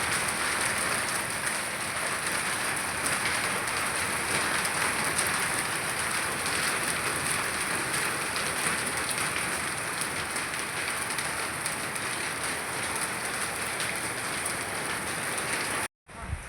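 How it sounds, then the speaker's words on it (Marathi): A heavy hailstorm hammers down on and around a farmhouse during a thunderstorm, making a dense, steady roar of impacts that holds at the same level throughout and stops abruptly at the very end, with no voices. "हा गारा आता गारांचा पाऊस आहे."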